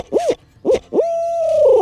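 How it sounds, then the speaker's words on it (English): A handheld owl hooter, used as a turkey-hunting locator call, sounds a few quick hoots followed by a long drawn-out hoot that trails off, loud and close. "They'll see a lot of people on YouTube using owl hooters like this one here."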